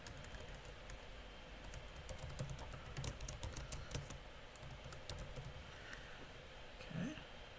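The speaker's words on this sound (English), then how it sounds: "I can type the title" Computer keyboard typing while entering a title into a symbol-supported reading document, a quick run of light clicks with brief pauses, close and fairly quiet.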